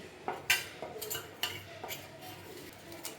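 A spoon stirring beaten eggs with onion, coriander leaves, chili powder and pepper for a bread omelet, making irregular close clinks and scrapes against the bowl, with no speech.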